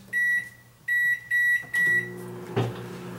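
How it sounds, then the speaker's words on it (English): Microwave oven in a kitchen warming a plate of carnitas and sides: four sharp electronic beeps in quick succession, followed by the low steady hum of the oven starting to run, close and loud with no talk. "we're going to pop it in the microwave for just a few seconds."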